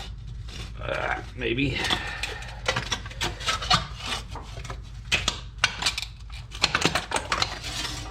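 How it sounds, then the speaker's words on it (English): Pin snips cut through a part of a budget big brake kit on a 2006-2011 Honda Civic LX, a run of close, sharp snipping and scraping bursts under a voice speaking. "You take some pin snips, you cut it"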